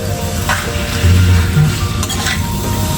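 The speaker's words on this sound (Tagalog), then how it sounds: "gisa lang natin yan karne at hayaan natin maluto" Meat sautés in a hot pan, a loud, continuous sizzle and crackle up close, with occasional scrapes of a utensil stirring and no voices.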